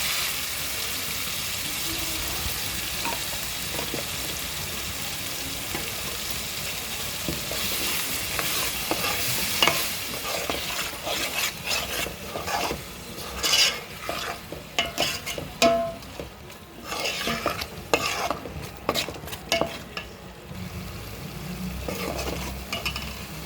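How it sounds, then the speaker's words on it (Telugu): Ground tomato juice fries and sizzles in a pan for chapala pulusu, a Telugu fish curry, while a spoon stirs it, scraping and clinking against the pan in irregular bursts that grow louder partway through. "ఇప్పుడు టమాటా కూడా నూరు పెట్టుకున్నాం జ్యూస్ లాగా, అది వేసుకుంటున్నాం"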